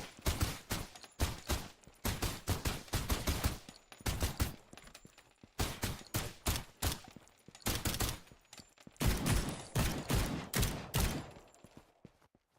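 Suppressed weapon fire in a video game, regular rhythmic bursts of muffled clicking shots in short volleys with brief pauses, heard alone and fairly close.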